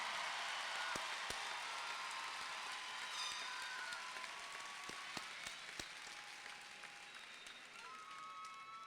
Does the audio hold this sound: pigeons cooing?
no